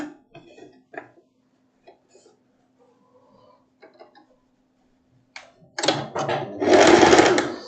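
Sewing machine stitching a seam on a long boho dress: faint handling sounds and a low hum first, then a close, loud run of stitching in two bursts near the end.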